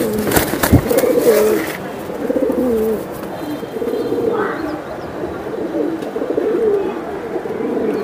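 Giribaj racing pigeons coo softly and repeatedly while being handled, close by, under a voice talking through most of the clip, with a few handling knocks early on.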